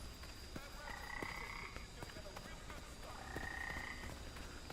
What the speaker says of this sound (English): Frogs all over. That's pretty cool. Little Lego frogs.